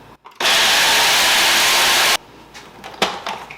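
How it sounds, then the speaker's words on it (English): Graham crackers ground in a kitchen appliance: a loud, steady whirring grind runs close up for nearly two seconds, then cuts off, leaving faint clatter behind. "let's go ahead and grind these up now"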